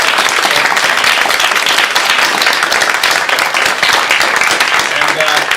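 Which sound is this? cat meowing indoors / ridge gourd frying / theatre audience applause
theatre audience applause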